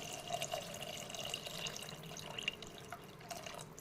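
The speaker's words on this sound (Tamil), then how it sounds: "அளந்து வச்சுக்க தண்ணி நான் சேர்த்துக்கிறேன்" Measured water poured from a vessel into a cooking pot of mint rice, a steady close splashing and dripping trickle with faint clinks, no one speaking.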